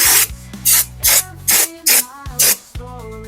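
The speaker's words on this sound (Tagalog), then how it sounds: "So gamitan natin ng Marsh brake cleaner, no? So spray natin to." Marsh brake cleaner sprayed onto a motorcycle front disc brake, six short bursts of loud hissing spray in a steady rhythm, close up, with quiet mechanical handling noise between bursts and no talk.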